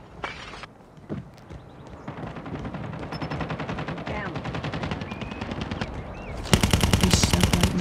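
Automatic gunfire with heavy recoil in a Call of Duty match, a long run of rapid shots that builds in loudness and ends in a louder, closer burst, with faint game noise and scattered effects underneath.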